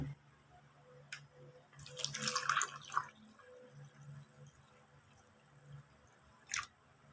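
Water poured into a container over coins, powder detergent and margaha sand, with a short splashing pour and a few small drips and clinks, close and fairly quiet.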